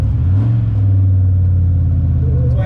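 Race car fitted with a spool differential, heard from inside on a relaxed drive: a loud, close, deep engine drone holding steady, then rising in pitch near the end as it revs.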